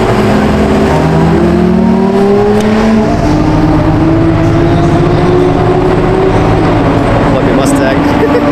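A Ford Mustang roars past on a race track at an open track day at Kuwait Motor Town, its engine note rising and sweeping across the scene, loud and continuous amid other engine noise.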